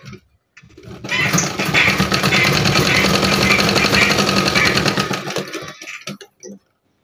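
An electric sewing machine stitching a hand-worked bedsheet runs in one continuous burst of several seconds, a loud, fast, even buzzing whir close by, with brief handling noises before and after.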